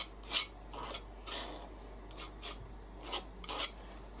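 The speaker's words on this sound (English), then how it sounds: "I'm going to put it on with my palette knife, and I'm just going to scrape it down." A palette knife scraping medium onto a mixed media canvas in repeated short, raspy strokes, about seven or eight irregular scrapes close up and quiet, with no speech.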